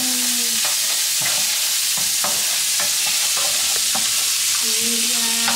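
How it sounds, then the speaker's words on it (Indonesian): Spring onion fries in a pan with a loud, continuous sizzle, punctuated by repeated clacks and scrapes of a utensil stirring against the pan. "Ini sekarang kita akan masukin daun bawang terlebih dahulu. Ini sampai kira-kira harum."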